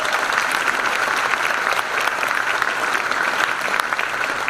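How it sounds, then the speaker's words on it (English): An audience at a beauty pageant claps steadily, a dense, even wash of applause that holds at the same level from start to finish. "Give everyone a round of applause one last time."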